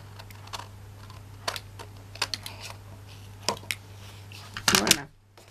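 Paper strips for a handmade New Year card being cut with scissors, giving scattered crisp snips and clicks over a steady low hum, ending in a brief louder burst of handling before quiet.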